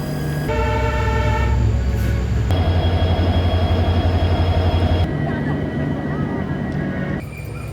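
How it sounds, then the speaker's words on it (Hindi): Ride aboard the Vistadome coach of the 16540 Mangalore Junction–Yeshwantpur weekly special train, with a loud, steady rumble of the running train and wheels throughout, shifting in tone as it rolls along. "आज की हमारी जर्नी होने वाली है 16540 मैंगलोर जंक्शन से यशवंतपुर के बीच चलने वाली वीकली स्पेशल ट्रेन में"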